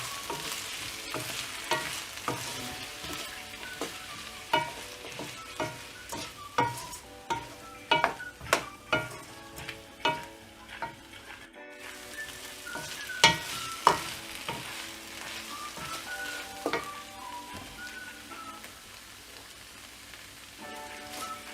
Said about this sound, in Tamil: வெங்காயம்லாம் நல்லா வதங்கி முடித்த உடனே இதில் நம்ம தக்காளி ஆட் பண்ணிவிட்டு நல்லா ஃப்ரை பண்ணணும்.